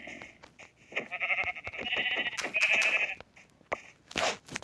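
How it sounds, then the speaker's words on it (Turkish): Repeated sheep bleats from the video game Minecraft with a slightly synthetic tone, overlapping and fairly close, with light clicking sounds between them. "Koyun da."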